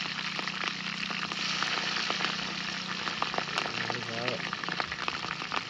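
Chillies and onions sizzling steadily in a hot pan, a continuous crackling fry with small pops throughout, and faint voices talking over it.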